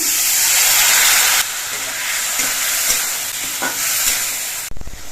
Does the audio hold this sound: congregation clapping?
no